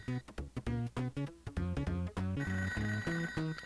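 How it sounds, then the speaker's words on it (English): Telephone ringing in the Sega Genesis game ToeJam & Earl, with loud bright rings in a bouncy rhythm over the game's music, repeating throughout without any talking. "there is a telephone on this stage somewhere"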